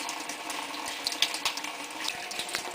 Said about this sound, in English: Filling the washing machine with cold water.